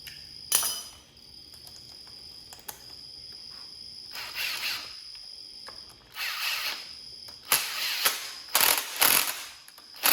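A ratchet clicks in bursts of rapid pawl ticks while bolts are tightened during a cam install on an LS engine, close and loud, with short pauses between strokes and no talking.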